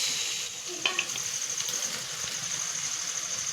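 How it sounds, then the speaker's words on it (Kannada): Rice being tipped into hot ghee in a frying pan for a quick ghee rice, giving a steady close sizzle with a couple of short clattering bursts near the start, no talk. "ಇರೋ ರೈಸ್ನ ಆ್ಯಡ್ ಮಾಡ್ಕೊಳ್ಳೋಣ."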